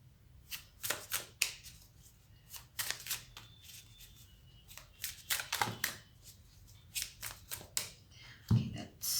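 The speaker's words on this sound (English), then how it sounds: "Okay, that's too many cards. Let me just reshuffle them." Tarot cards are shuffled by hand in repeated quick riffling bursts, close and fairly loud, with a brief thump near the end and no speech.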